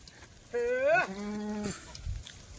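A single drawn-out bleat from a Kathiawari goat, wavering in pitch and then dropping to a lower held tone, close and loud over faint background noise.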